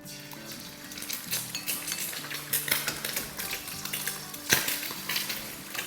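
Two eggs drop into about three tablespoons of hot oil in a heated wok, giving a soft steady sizzle with light metallic clinks of utensils, fairly quiet and with no talking.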